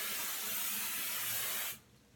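A single long burst of Kenra Volume Spray number 25 hairspray hisses steadily from a large aerosol can for about a second and a half, then cuts off abruptly into quiet.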